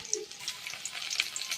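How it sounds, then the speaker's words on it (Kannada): Coriander and cumin frying together in hot oil, a close, steady sizzle with light crackles and pops over about a second and a half. "ಸೋಕು ಫ್ರೈ ಆಯ್ಬೇಕ ಕೊತ್ತಂಬರಿ ಜೀರಿಗೆ ಪೂರ ಒಟ್ಟಿಗೆ ಪಾಡ್ಗ"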